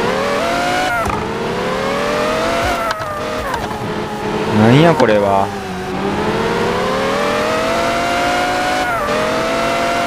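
A V10 engine in the mobile game Car Parking idles high and loud, then revs sharply upward in a rising whine midway before settling back. A voice speaks briefly over it.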